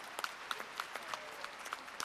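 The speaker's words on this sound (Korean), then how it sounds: "일단 박수 한번 보내드릴까요?" Scattered audience clapping at a book concert talk event, fairly faint and sparse, individual claps standing out in an uneven rhythm.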